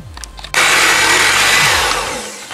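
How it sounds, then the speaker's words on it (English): A blender blending chocolate cake filling of cream cheese and chocolate kicks on abruptly and runs loud and steady for a couple of seconds, a dense whirring roar that eases slightly near the end. "we're going to blend it up"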